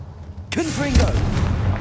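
A Confringo blasting spell fired in the Hogwarts Legacy video game, a sudden loud burst with whooshing, crackling tail and rumbling low end, layered with brief game voice sounds over ongoing background effects.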